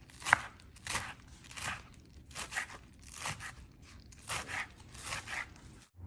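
Spinach leaves being finely chopped with a knife for sarson saag, a steady rhythm of crisp, close cuts repeating roughly every half second to a second, with no talking.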